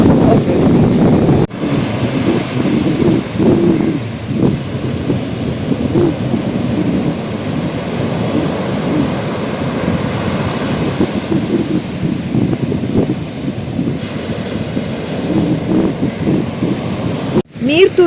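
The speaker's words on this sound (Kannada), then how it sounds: "ನೀರ್ದ ಶಬ್ದ ಮಸ್ತ್ ಖುಷಿಯ ಒಂದು" Loud, continuous rushing of flowing water at a rural Tulu Nadu stream, a broad steady roar with wind buffeting, close to the microphone.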